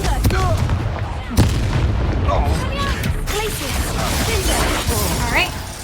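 Confringo fire spell bursts in Hogwarts Legacy, loud booming impacts and crackles over game combat noise, with a sharp blast near the start.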